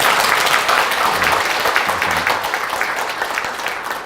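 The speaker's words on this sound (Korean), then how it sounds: "박수" A church congregation applauds at a baptism service, a dense, steady wash of many hands clapping at close range that holds for the whole stretch and fades slightly at the end.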